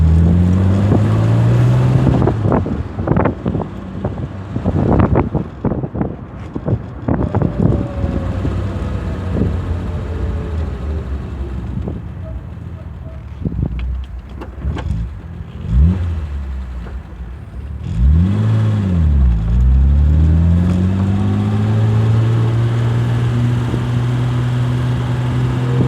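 A car engine revving while driving, loud and close, with repeated rises and falls in pitch as the gears change, a deep swooping rev near the end, and wind buffeting the microphone throughout.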